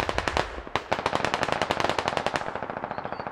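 Rapid automatic gunfire in the military shooter Squad, a fast run of loud, evenly spaced shots with a short pause, then continuing bursts that taper slightly near the end.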